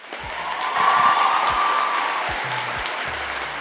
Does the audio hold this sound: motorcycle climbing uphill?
no